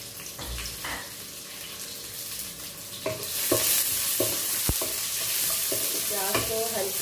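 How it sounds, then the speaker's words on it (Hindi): Chopped medium onion frying over lowered flame in a pan for a dhaba-style mixed vegetable dish, with steady sizzling and repeated scraping stir strokes that grow louder midway, no talk. "प्याज ब्राउन हो रही है"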